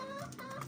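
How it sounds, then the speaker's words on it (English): Hens feeding on rice give a few soft, low clucks, faint and close in a brief burst. "There's so many chickens because they're eating."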